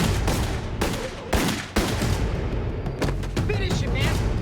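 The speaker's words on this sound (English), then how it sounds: "The younger one, Saeta, pulled out a gun and began to fire at Sal." Gunfire in a crime documentary reenactment: several loud, sharp shots ring out at irregular intervals over a dense, busy backdrop of dramatic sound, with a voice briefly heard near the end.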